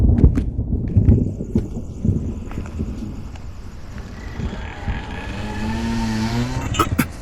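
A car driving recklessly in a Hindi-dubbed action movie scene, with engine roar and thumps up front, then a long rising tire squeal that sweeps across the second half, loud and near.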